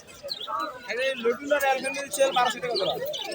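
Pigeons and doves calling among a busy crowd at the Fatullah pigeon market, soft chirps and coos woven under near, continuous overlapping voices of people talking.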